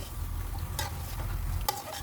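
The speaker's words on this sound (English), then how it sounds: "Please do not stop sauteing it before you see all of this is boiling or cooking together." Meat cooking with masala and yogurt for Kolkata biryani, sautéed and stirred in a pan: a steady low sizzle with two brief scraping stir strokes, close and alone.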